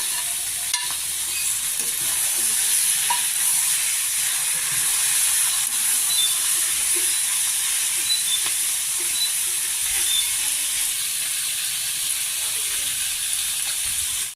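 Fish pieces coated in salt and turmeric fry with onions in hot oil, a loud continuous hiss and crackle that holds steady throughout with no voices.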